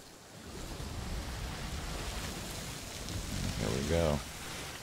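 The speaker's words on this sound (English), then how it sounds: "I love going through the storms in this game. It's pretty awesome. The rain, and you'll see." Steady rain and stormy sea wash with wind in a sailing ship video game, a continuous hiss of moderate loudness, while someone speaks briefly over it.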